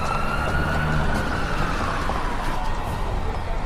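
A wailing ambulance siren sweeps up and down continuously, loud and steady against constant traffic rumble, with no talking.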